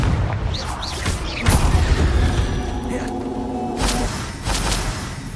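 Confringo blasting spell cast in Hogwarts Legacy, heard as a loud booming burst with a whooshing tail, followed by further thuds and blasts amid game sound effects and voices.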